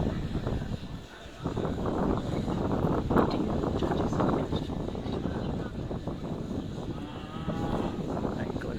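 Aberdeen Angus cattle lowing at an outdoor agricultural show, a few moos rising over steady wind buffeting and a busy crowd murmur, with people talking nearby throughout.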